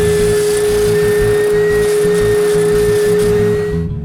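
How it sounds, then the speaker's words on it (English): Wooden chair arch being sanded inside and out during a chair restoration, a steady loud power-tool drone with a constant hum running the whole time and easing off at the very end. "When the glue is dry, I sand both the exterior and interior of the arch"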